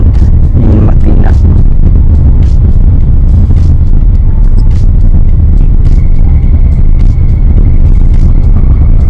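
Loud, constant rumble of city road traffic around noon in Davao City, with engines droning and passing vehicles close by, steady throughout under intermittent background voices.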